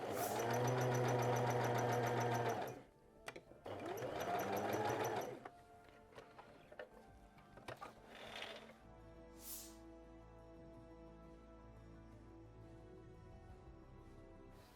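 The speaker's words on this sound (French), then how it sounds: "Donc on va faire des coutures ici, donc au point droit" A sewing machine runs a straight stitch along a jacket seam in two loud close bursts of rapid whirring, followed by quieter handling noises and faint clicks.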